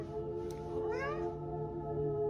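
A single drawn-out cat meow rises and falls over a steady low hum, fairly close and clear, with no talking.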